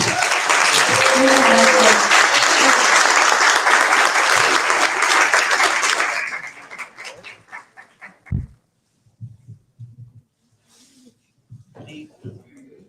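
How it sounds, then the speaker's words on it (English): Audience at a youth leadership conference closing plenary gives a loud, sustained round of applause for about six seconds, then it fades into scattered claps, faint talk and a few soft knocks. "So a round of applause."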